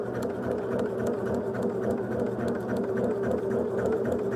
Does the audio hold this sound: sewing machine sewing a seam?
yes